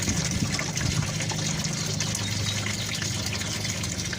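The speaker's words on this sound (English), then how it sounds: "it drains a lot faster if you take the plug all the way out" Coolant from a 1989 Plymouth Voyager turbo van engine, drain plug fully out, pours steadily into a container in an even, continuous gush with no pauses.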